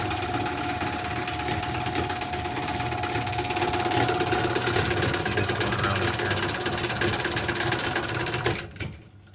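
An Overhead Door 85A garage door opener runs steadily as it opens the door, a continuous mechanical motor drone with a constant hum that holds for about eight seconds before cutting off near the end.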